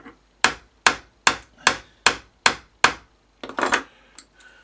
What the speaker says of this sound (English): And tap the spanner.